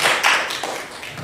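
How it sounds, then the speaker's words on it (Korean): A middle-school church congregation at a Sunday worship service claps together in a short, dense burst of hand claps that fades slightly over about a second. "우리 박수 한번 칠까요?"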